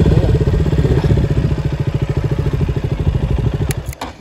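A motorcycle engine idles close by in a parking area near Indrasarobar Lake at Kulekhani, Markhu, with a loud, even, throbbing putter that cuts off in a short clatter at the end.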